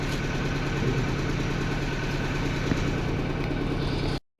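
A vintage grey-covered Husqvarna 61 chainsaw runs steadily at a constant rumbling pitch, close and loud, with no voices, before it cuts off abruptly near the end.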